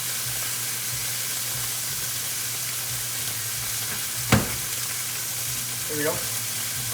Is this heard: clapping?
no